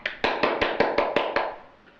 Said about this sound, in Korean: 자, 동시를 표현해준 친구들에게 칭찬 박수 쳐주자.